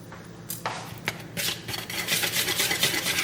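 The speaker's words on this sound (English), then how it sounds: "Whisk this together" A whisk stirs dry ingredients and cream of tartar together in a bowl for a pumpkin spice bake, making soft, repeated scraping strokes that grow denser and steadier.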